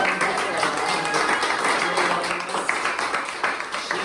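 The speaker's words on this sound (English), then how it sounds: "we all need to give a round of applause to Sarah" An audience at an art walk kickoff in Aspen claps for a woman introduced on stage, a few seconds of moderately dense applause with voices mixed in over it.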